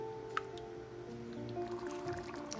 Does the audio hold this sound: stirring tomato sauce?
yes